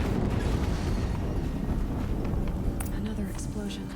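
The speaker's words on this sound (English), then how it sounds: "Another explosion." A loud, rumbling explosion in the video game Horizon Zero Dawn rolls on as a dense, continuous roar for several seconds, holding steady before easing slightly toward the end.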